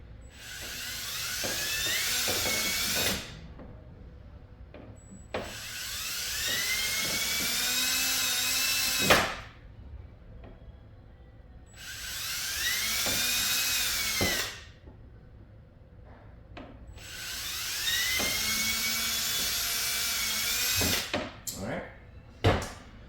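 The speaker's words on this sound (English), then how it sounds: "make sure you drill these holes right in the center" A small power drill whines in four long high-pitched bursts, each running several seconds, separated by brief pauses with faint clicks.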